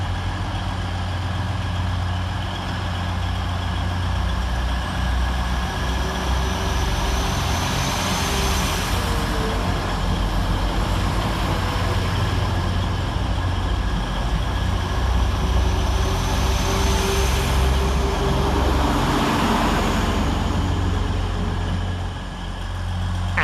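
A pair of British Rail Class 195 diesel multiple units departs Bradford Interchange with a deep, steady engine drone that swells slowly as they pull away, with no voices present.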